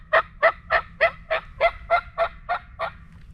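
Wild turkey calling out in Alabama during the spring opener: a steady run of about ten loud, evenly spaced, raspy notes close by, with no one talking.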